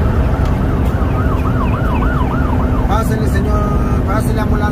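An ambulance siren wails in steady rising-and-falling sweeps as it passes on a road amid loud traffic, with a second siren pattern breaking in near the end and a voice talking over it.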